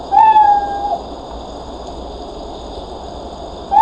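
Two short synthetic cat meows from a Scratch program, one at the start and one at the end, with a quiet hiss between them.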